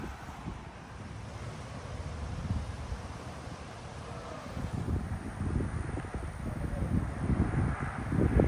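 Gusting wind roars across the microphone while riding a Mokwheel e-bike along a sunny bike path in Rapid City at around 17 to 18 mph. It is a steady rushing noise that grows louder toward the end.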